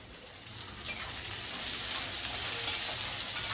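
Onions fry into crisp beresta for chicken biryani, a continuous bright sizzle that grows slightly louder and denser as it goes, with no talking.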